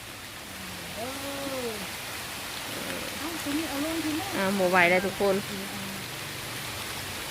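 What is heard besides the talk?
rain falling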